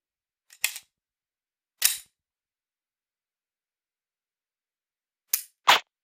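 A Smith & Wesson SD9VE pistol fitted with a laser training cartridge is dry-fired, giving four sharp, isolated clicks in two widely spaced pairs against silence.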